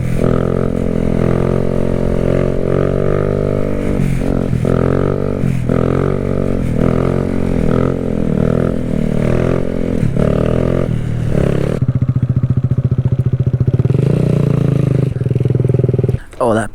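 A Kawasaki Z motorcycle engine roars steadily up close while being ridden and pulled into wheelies, pitch climbing and dropping through revs, with a rider talking over it.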